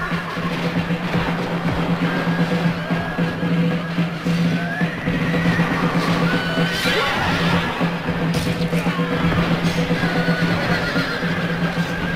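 Horse neighing in the medieval strategy game Medieval II: Total War, a whinny rising over a steady loud battle soundscape with hoofbeats and a low drone throughout.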